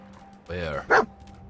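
A short dog bark or yelp from Dogmeat in the Fallout 4 video game, one brief burst under steady background game ambience, with a voice talking just before it.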